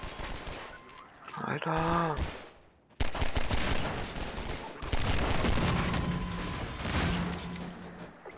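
Gunfire in the Half-Life 2 video game: someone speaks briefly, a rising charge-up whine follows, then loud repeated shots and bursts continue, with more talk mixed in.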